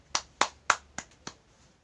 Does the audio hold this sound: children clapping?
yes